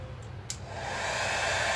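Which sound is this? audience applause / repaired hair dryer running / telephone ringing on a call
repaired hair dryer running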